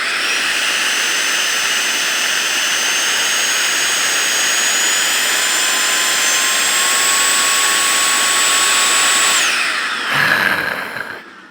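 A WORX WU.056 battery-powered cordless spray gun runs at full power with a loud, steady, jet-like whine and rushing air, then cuts off abruptly near the end, leaving a short burst of hiss.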